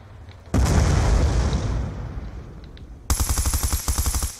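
In Black Ops II, a single heavy boom sounds after a brief quiet and rolls off slowly. Then a fast run of about a dozen sharp, loud shots follows in an even rhythm, all close by with no talk.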